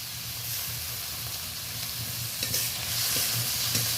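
Chopped tomato and masala fry on low heat in a pan, giving a continuous close sizzle with stirring scrapes and soft hissing that grows slightly louder toward the end, with no voices.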